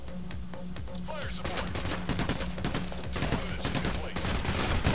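Rapid gunfire from PayDay: The Heist rattles in dense bursts of close, loud shots throughout, with a low drone underneath and voices shouting over the fighting.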